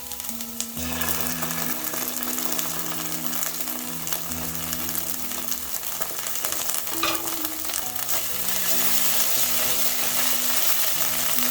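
Onions, ginger and tomato paste frying in a pan, a steady close sizzle with occasional stirring scrapes, continuous and even throughout.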